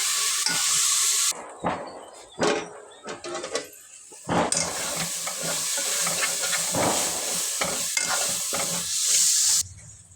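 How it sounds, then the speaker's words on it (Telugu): Ginger garlic paste sautéing in a pan for a potato kurma, with steady frying sizzle and hiss throughout and spoon stirring scrapes mixed in, close and fairly loud, no talking. "అల్లం వెల్లుల్లి పేస్ట్ పచ్చివాసన పోయేంత వరకు కొద్దిగా మగ్గనిద్దాం"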